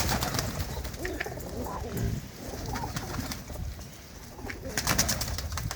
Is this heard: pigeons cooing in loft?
yes